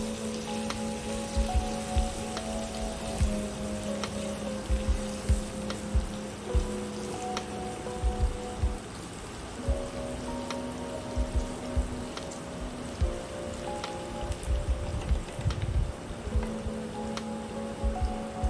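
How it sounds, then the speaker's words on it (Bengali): Chopped carrots stir-fry in hot oil for veg Hakka noodles, giving a steady, close crackling sizzle throughout with soft musical tones underneath. "গাজর কুচি দিয়ে কিছুক্ষণ একটুখানি নাড়াচাড়া করলাম।"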